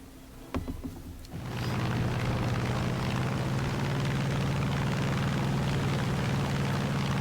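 In the flight game War Thunder, a P-47D-25 Thunderbolt's radial piston engine and propeller rise from a quieter start into a loud, steady droning roar that holds through to the end, with no talking.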